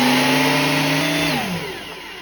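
A thicknesser planer's motor runs with a loud steady hum and whine, then spins down, its pitch falling as it winds toward a stop.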